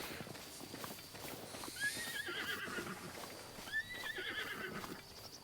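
Horse neighing in the game Breath of the Wild, Master Mode, two separate high whinnies a couple of seconds apart, fairly faint over soft hoof clip-clop and outdoor ambience.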